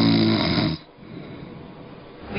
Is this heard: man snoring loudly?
yes